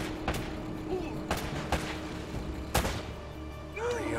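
Gunfire in the Uncharted video game: several sharp separate shots spaced a second or so apart over a low background rumble, with faint game sounds between them.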